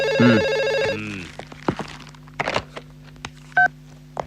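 A telephone rings with a bright electronic trill at the start, then gives way to scattered clicks and a short tone burst as the handset is picked up in a quiet room.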